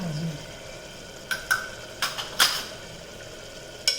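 A utensil stirs chutney with coriander-cumin spice in a home kitchen pan, making quiet scraping and a few sharp metallic clinks spaced irregularly, with no talking.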